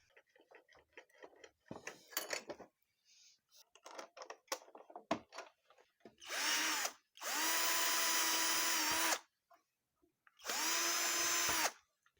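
A power drill boring holes in the tail panel of a Hero Glamour motorcycle, three loud whining bursts of a few seconds each after a stretch of clicking and handling noises, close up.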